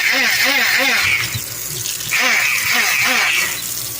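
Tap water runs steadily into a kitchen sink while cooking tools and a knife blade are rinsed, a continuous close hiss with sloshing and shifting splashes throughout.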